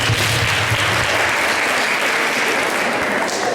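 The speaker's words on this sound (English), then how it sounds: "you can clap for yourself" Students at a university lecture on constitutionalism and governance applauding themselves, a loud, even wash of many hands clapping that runs steadily for several seconds with a faint low hum at the start.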